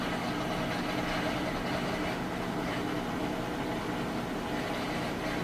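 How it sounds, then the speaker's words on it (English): A Kenmore washer drains during its final spin cycle, producing a constant rumbling, rushing noise at moderate volume with no pauses or changes throughout. "Hear the drain running."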